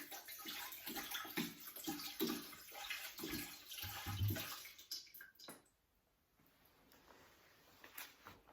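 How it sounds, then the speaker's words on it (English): Water pours and splashes into a pot in a steady, close gush, then cuts off and fades to quiet with faint drips and small splashes near the end. "they brought lots of water to add into the pot."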